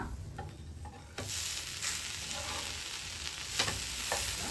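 Garlic bread slices roasting in a pan on both sides, giving a steady soft sizzle with a few light scraping clicks as the bread is turned.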